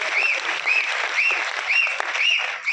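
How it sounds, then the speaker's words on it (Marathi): Audience applause at an Eduteck RBC program in Nanded, rendered as steady, rhythmic clapping from a crowd in unison, loud and continuous throughout, with no talking over it. "तर तुम्हाला जेवढी ताकद आहे तेवढ्या टाळ्या सरांसाठी झाल्या पाहिजे"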